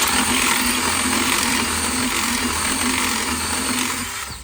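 A power drill whines loudly and continuously, grinding steadily for several seconds before easing off slightly at the end, as the drill bit breaks while fitting a rear upper control arm on a Fox Body Mustang drift car.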